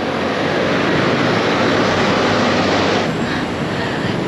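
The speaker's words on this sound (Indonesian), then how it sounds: "Ini tuh MRT jalur coklat Mbak Besti." Taipei MRT brown line train rolling past, a loud, steady broadband rush of wheels and air that fills the whole stretch with no voices.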